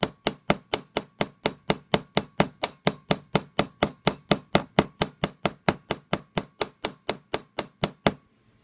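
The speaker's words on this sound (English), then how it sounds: "I'll use my chasing hammer, and I'll be using the rounded edge to put little divots in the metal." A chasing hammer's rounded edge strikes a copper jewelry bezel, making little divots in a steady run of about thirty sharp, ringing metallic taps, close and evenly spaced, with no voices.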